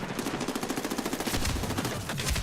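Rapid automatic weapon fire from Medal of Honor Warfighter, a steady stream of evenly spaced shots that grows denser and louder toward the end, with no talking.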